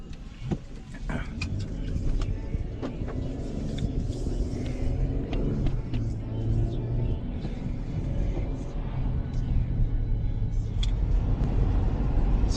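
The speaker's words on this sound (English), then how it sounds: "So much traffic." Steady road traffic and car rumble heard from inside a vehicle driving home from an office, a continuous low drone with occasional passing swells, fairly loud throughout.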